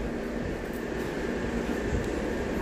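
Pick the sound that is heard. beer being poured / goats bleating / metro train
metro train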